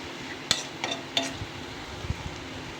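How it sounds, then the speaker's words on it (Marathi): Bottle gourd milk kheer stirred in a pot, with a few sharp clinks of a spoon against the metal rim standing out over a soft, steady scraping. "आता असंच एक आपण पाच मिनटं हलवून घेऊया"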